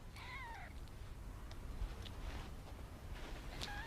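Newborn kittens nursing from their mother give thin, high meows, one near the start and another near the end, faint over a soft background hiss.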